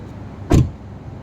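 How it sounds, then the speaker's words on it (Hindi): The door of a Volkswagen Virtus shuts with a single solid, close thud that stands out briefly against the quiet surroundings. "and look at the door closing third"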